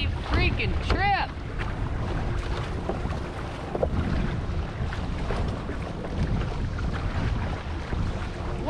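Strong wind buffets the microphone on a Hobie sailing kayak out on open water, making a loud, steady rumbling roar throughout. A few brief high chirps come through near the start.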